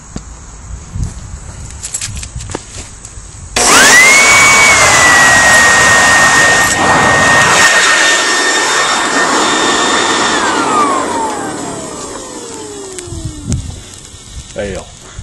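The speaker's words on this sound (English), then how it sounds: "Electric blower hooked up." An electric blower forced into hot coals in a small fence post hole kicks on abruptly with a loud roaring rush and steady high whine, runs for several seconds, then winds down with a falling pitch.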